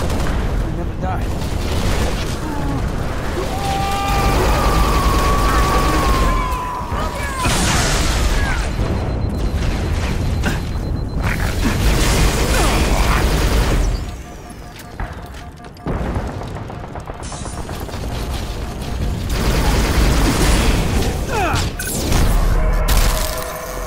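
Halo Reach gameplay with dense, loud gunfire and booming explosions from start to finish, a brief dip in the middle, while players shout and talk over the combat.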